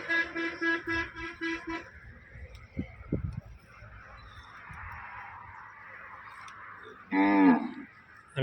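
A desi cow moos in loud, drawn-out calls at the start, then a quieter stretch of farmyard background with a few thumps, and a second strong low call near the end.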